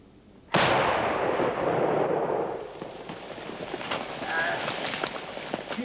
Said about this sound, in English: An HVO engineer then places a small explosive charge next to the mine, which is detonated once everyone has vacated the area.